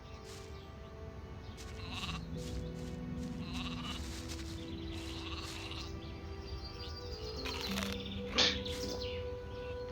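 Sheep in the video game Gothic 2 bleat repeatedly in a pastoral back yard, several calls spread over the stretch with faint bird chirps, a steady ambient bed and a brief sharp noise near the end.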